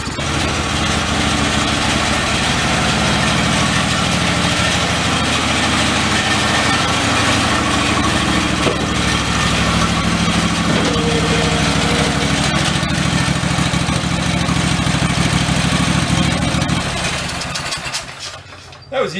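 A secondhand garden tractor engine runs loud and steady for about seventeen seconds, then cuts off near the end, with speech faintly mixed in.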